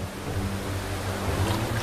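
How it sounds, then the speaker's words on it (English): A gushing river waterfall in a coastal rainforest roars steadily as dense, continuous rushing water with a deep low rumble and no breaks. "The gushing waterfall further upstream seems insurmountable."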